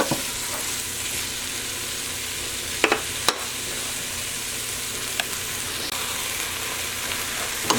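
Onions for French onion soup cooking down in a pot, a continuous close sizzle with a couple of sharp utensil knocks and scrapes as they are stirred, no voices.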